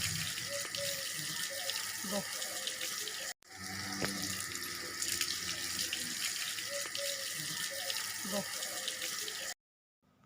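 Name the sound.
water splashing while bathing a cow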